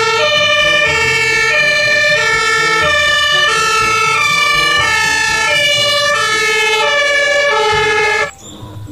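Fire engine siren wails loud and close in a continuous rising and falling pattern, repeating steadily for several seconds before cutting off abruptly near the end.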